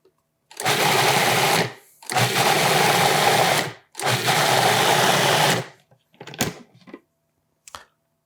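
A food processor blends chicken liver pâté with sour cream in three loud, steady bursts of whirring, each a second or two long with short pauses between, followed by a few brief clunks.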